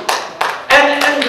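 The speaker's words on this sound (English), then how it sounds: "you shouldn't applaud necessarily" Audience at a talk on the American Jewish future breaking into applause, short bursts of clapping in several waves with a louder swell near the end.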